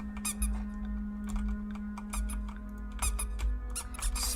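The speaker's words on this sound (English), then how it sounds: "This game has rubber duckies too!" Rubber duck toys squeaking in a video game, a string of short, sharp squeaks in irregular bursts over a steady low hum of game music.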